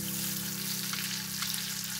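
Red onion and tofu sautéing in a pan, giving a dense, even sizzle with a low steady hum underneath, continuous and close throughout the short stretch.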